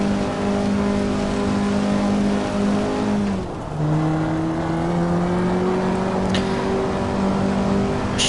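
Car engine in the Assetto Corsa driving game, a loud, sustained drone that drops with a brief gear change, then climbs steadily again as the revs build.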